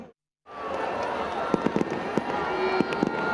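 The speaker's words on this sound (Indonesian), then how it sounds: "Pesta Kembang Api memeriahkan penghujung gelaran Jakarta Fair 2025." Fireworks go off at the closing night of Jakarta Fair 2025. After a brief silence, a continuous rumbling crackle builds, punctuated by several sharp bangs and pops, with faint crowd noise beneath.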